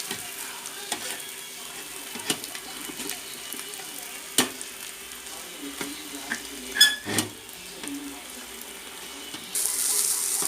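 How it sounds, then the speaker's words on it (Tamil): Chicken noodles being stirred in a frying pan at home, soft scraping and gentle sizzling with a few sharp clicks of the utensil against the pan, quiet and close. "நூடுல்ஸ் எல்லாம் போட்டு நம்ம நல்லா கிளறி விட்டுக்கலாம்"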